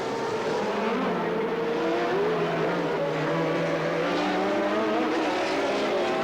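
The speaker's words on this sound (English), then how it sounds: "On and on went the flying Arnoux" Renault Formula 1 cars of 1982 race by with a sustained high engine whine that rises and shifts in pitch, loud and continuous with no speech.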